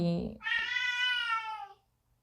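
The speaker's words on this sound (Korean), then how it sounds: "저희 고양이가 우다다를 시작했는데요." A pet cat gives one loud, drawn-out, whiny meow at close range, preceded by a brief low vocal sound, then quiet.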